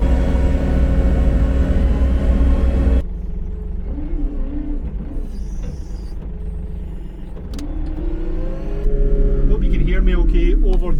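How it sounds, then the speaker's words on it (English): A small forklift's engine runs loudly nearby in a steady rumble that drops and returns, with a person talking over it. "over the noise of this forklift"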